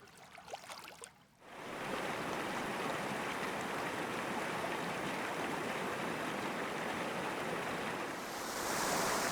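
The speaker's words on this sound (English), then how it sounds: "a quaint waterfall that spills over the beach" Steady broadband rush of a small winter waterfall at the end of Maiden Creek, Idaho, spilling onto a beach, continuous and fairly loud, after a brief quieter rustle at the start; no voices.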